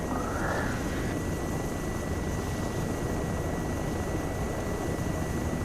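Arma 3 aircraft flying in low to land, heard as a steady, loud, droning engine roar with rotor-like noise that holds unchanged throughout.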